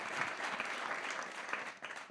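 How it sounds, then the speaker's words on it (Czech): Audience applause at a Czech design awards discussion, a dense, steady patter of many hands clapping from a moderately distant room, sustained for the whole stretch with no voices over it. "Dvojí potlesk."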